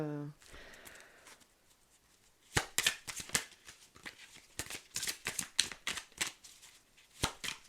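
Tarot cards shuffled by hand: a low voice murmurs briefly at the start, then a quiet spell gives way to a run of sharp, close riffling bursts and flicks in an irregular rhythm.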